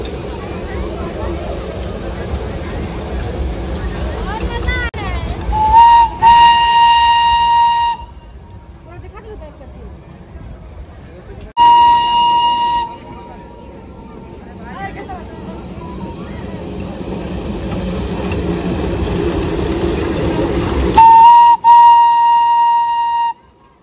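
Darjeeling toy train running on the Batasia Loop, with several whistle blasts sounding over the steady rumble of the moving train and a crowd of voices talking nearby.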